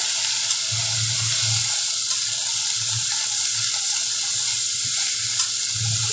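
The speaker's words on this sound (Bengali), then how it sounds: "একটু ভাজা ভাজার মতো হয়ে এসছে ঝিঙাটা।" Ridge gourd frying in a pan, a steady loud sizzle under light stirring scrapes, close and continuous, with no talking.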